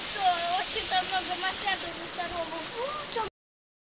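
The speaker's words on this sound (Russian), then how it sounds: "Просто дождь такой сильный." Heavy rain pours down steadily at a holiday camp, a dense continuous hiss close by, with people speaking over it before it cuts off abruptly near the end.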